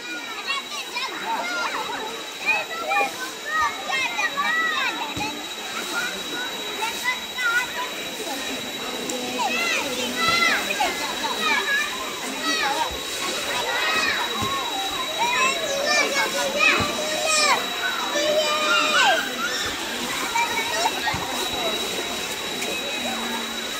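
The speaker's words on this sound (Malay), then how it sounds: "Hakim, bawa dia main dalam air, Hakim." Children playing and splashing in the water of a hot spring in Besut, Terengganu, with lively kids' voices, shouts and adult talk over a constant watery background wash.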